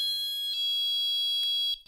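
A magnetic door-contact alarm chimes as its two contacts separate, giving a loud, piercing, high electronic tone that holds steadily for almost two seconds, with a couple of brief pulses, before cutting off abruptly.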